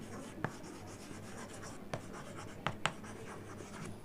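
Chalk or marker writing on a board during a Hindi-medium English grammar lesson, a few faint scattered scratches and taps over steady room hiss, with no talking.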